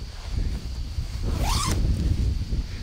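A zipper on a TideWe Altus whitetail hunting suit pocket is pulled once in a quick, bright rasp lasting about a third of a second, close and distinct over quiet handling noise.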